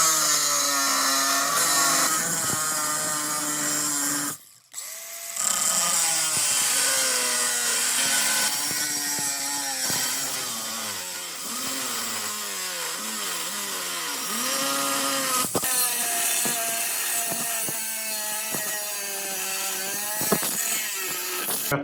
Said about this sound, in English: So let's go ahead and get this cut, get all this cut out